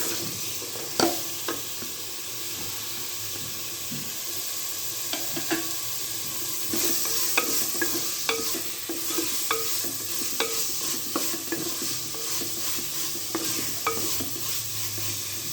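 Masala frying with carrots, beans and potatoes for veg biryani: a continuous sizzle with repeated clicks and scrapes of a spoon stirring against the pan at an uneven rhythm, close and with no voices.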